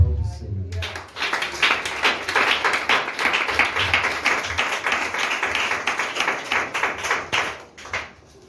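A church congregation breaks into sustained applause, a dense wash of many hands clapping together for several seconds before tapering off at the end.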